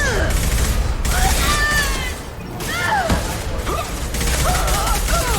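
Rapid bursts of gunfire in the sci-fi shooter Mass Effect 2 during a firefight with vanguard enemies. The shots are loud and nearly continuous, with whooshing and crashing effects layered in a dense battle mix.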